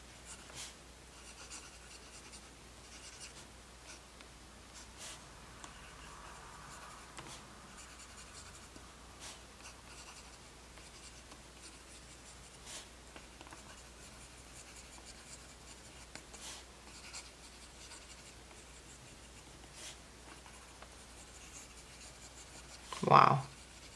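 A Woodshed Penco fountain pen with a 1.1 stub nib writes on paper in a Cosmo Air Light notebook, soft close scratchy strokes in short bursts with faint breathing between and a louder knock near the end.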